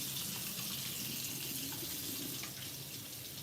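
Running water rinses hair dye out, a steady, quiet hiss of flowing water that holds evenly throughout.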